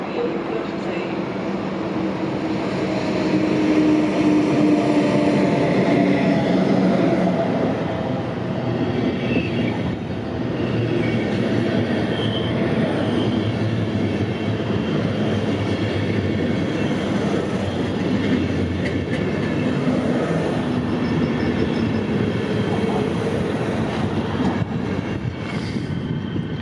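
Trains at Koblenz main station rumble and roll along the platforms, with wheels squealing and clacking over the rails, a loud continuous drone that swells and eases, and faint voices in the background.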